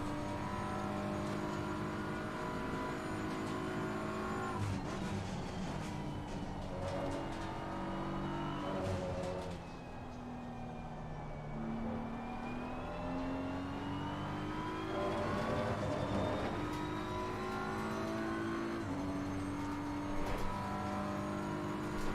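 A BMW race car in a racing video game lapping Suzuka in qualifying setup, its engine droning and rising and falling in pitch through gear changes, steady and continuous with no talk.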